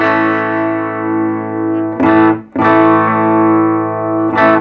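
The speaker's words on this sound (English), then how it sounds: "So you can get some really nice bright sounds. Now that's with the humbucker." A 1990 Charvel 475 electric guitar played through its humbucker pickup rings out in bright, sustained distorted chords. Two long ringing strums are each cut by a brief re-strike, loud and close, with no voices.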